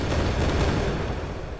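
Explosion sound effect from Unreal Engine 4 starter content: a dense, broadband rumbling blast that holds loud and steady, then slowly tails off.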